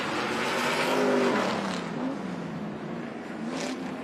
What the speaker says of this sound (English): So that's the noise you can hear, that massive V8.